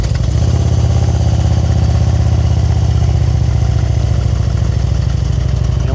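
Motorcycle engine running loud and steady at low speed with a loaded throttle during slow-speed riding practice, a continuous close rumble without pauses.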